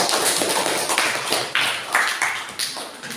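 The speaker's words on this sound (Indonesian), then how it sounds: "Ya, tepuk tangan dulu untuk kita semua." A group claps together in a classroom session, producing brisk, dense applause close by that swells in uneven bursts and then tapers off.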